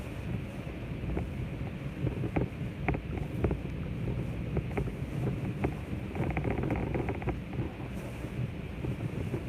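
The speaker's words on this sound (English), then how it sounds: "Very strong tropical storm continues." Strong, gusting tropical storm wind roars and buffets the microphone continuously at a boat marina in Key Largo, with sharp cracks and rattles breaking through the steady rushing noise.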